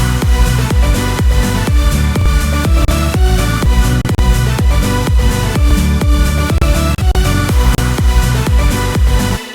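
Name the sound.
Serum remake of a song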